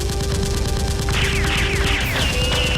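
Nerf guns fire in a Nerf war battle at a brick factory, producing a loud, dense, continuous rattle of rapid shots with no pause and no talking.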